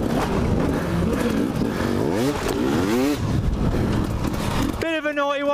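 Enduro motorbike revving and sliding on slippery cobbles during the Red Bull Romaniacs prologue, with loud engine surges, clattering and scraping from the crash, and voices over the noise.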